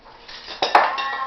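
Matzah being cut with kitchen utensils, a brief scrape followed by a couple of sharp metallic clinks and crunches, close and clear.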